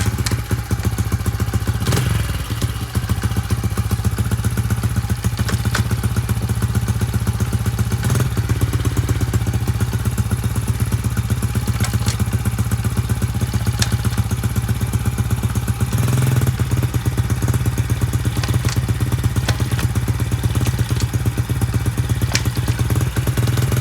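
A Honda CRF70 dirt bike runs steadily in gear, its small single-cylinder engine putting out a continuous, close, loud mechanical drone with slight clatter and brief shifts in pitch throughout.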